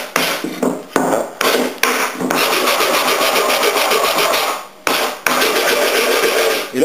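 A wooden planter stand piece is sanded by hand with fast back-and-forth strokes, loud and close, broken by brief pauses before a longer continuous circular scrub.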